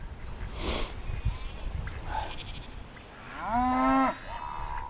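A single drawn-out cow moo, fairly close, follows quieter outdoor sounds with a sniff and snort.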